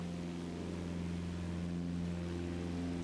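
Piper PA-28 non-turbo single-engine piston aircraft in a flight simulator, a steady throaty engine drone holding an even pitch throughout, fairly faint and continuous with no talking.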